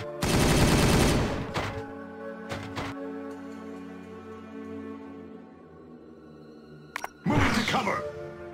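Heavy weapons fire in a Warhammer 40000 video game battle between Dark Angels and Ultramarines: a loud, dense burst of rapid shots, a ringing mechanical hum with a few sharp single cracks, then a second short burst of fire.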